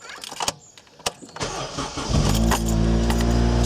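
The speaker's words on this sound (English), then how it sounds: "Just run the engine and just check that the belt's going as it should." A Honda Civic Type R EP3 with a K20A2 engine, freshly refitted alternator belt, cranks with a few clicks and catches, then settles into a steady, loud idle close by.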